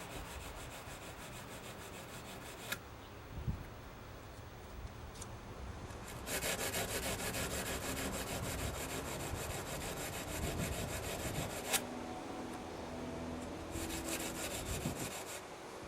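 Serrated knife blade sharpened by hand with emery cloth, a steady dry rubbing and rasping scrape running nearly throughout, growing louder and denser midway, with brief pauses and small clicks.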